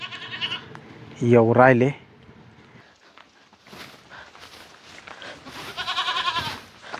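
A goat near a chawl gives one loud, wavering bleat close by. Quieter murmuring voices and shuffling follow, and the talking grows louder toward the end.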